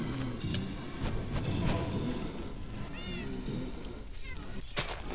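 A cat meows a few times in the Minecraft video game, short rising and falling cries set amid busy, continuous game noise.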